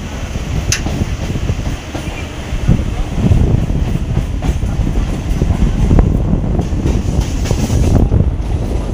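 Passenger train on the single-track Howrah–Haldia line, heard from on board: a steady low rumble of wheels and carriages with wind buffeting, continuous and fairly loud throughout.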